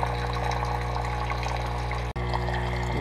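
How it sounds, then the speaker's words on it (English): Clean water runs through a Saeco Odea Go espresso machine during descaling, a steady gurgling flow over a droning pump hum, briefly cutting out before resuming. "Just have to wait until the water runs through everything."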